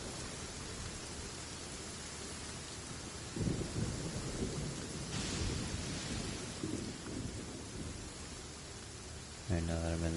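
Steady rain pours throughout in a Genshin Impact city scene during Lantern Rite, with a rumble of thunder rolling in partway; a brief burst of chiming game sound cuts in near the end.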